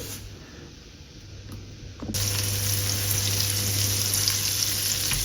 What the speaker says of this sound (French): On va mettre notre beurre à fondre.